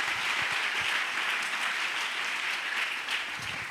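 A church congregation applauds in acclaim of the Lord during a Pentecost service, a steady, dense wash of many clapping hands that holds at even loudness throughout, with faint voices mixed in.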